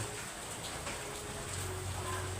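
Steady rain falls outdoors during a break in pouring concrete for stairs, a continuous hiss with a low hum beneath, no voices.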